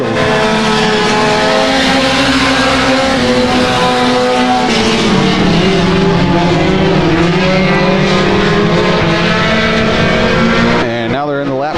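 Mini stock race cars roar around the dirt track at Genesee in a steady, loud engine drone with shifting whine, the pack close and continuous, while a race announcer talks over it before the roar briefly dips at the end.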